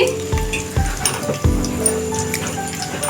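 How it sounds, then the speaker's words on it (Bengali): Large onion pieces drop into hot oil for a dried rupchanda fish dish, setting off a few heavy thumps followed by a steady, close sizzle with light crackle. No one speaks. "এখানে বড় বড় টুকরো টুকরো করে পেঁয়াজ দিয়ে দিচ্ছি"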